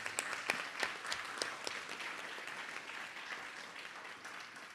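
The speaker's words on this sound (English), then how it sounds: "Give yourselves a round of applause for being a part of this beautiful event" Audience applause at a community event against white supremacy, a faint, distant crowd clapping steadily with scattered sharper claps throughout.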